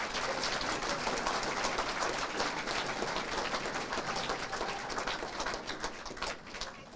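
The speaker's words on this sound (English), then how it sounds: "Let's give these gentlemen a round of applause" Sustained applause from an audience honoring sports hall of fame inductees, a steady wash of many hands clapping at even volume for several seconds, thinning slightly toward the end.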